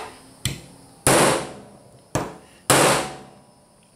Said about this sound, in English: It took a couple whacks, but I was able to get through it.